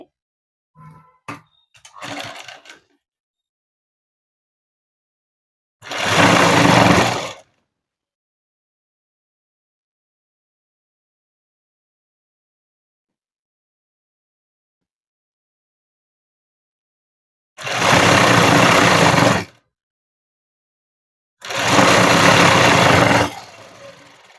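A sewing machine stitching a child's dress runs in three separate bursts of steady, close whirring, each lasting a second or two, with long silences between and a few faint clicks at the start.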